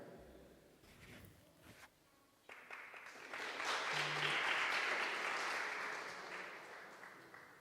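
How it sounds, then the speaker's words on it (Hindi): A congregation at a Friday prayer meeting breaks into applause, building from about 2.5 seconds into a loud, sustained wash of clapping that holds steady before easing slightly toward the end, with scattered handling noises at the start. "वेलकम, जोरदार तालियों में होना चाहिए।"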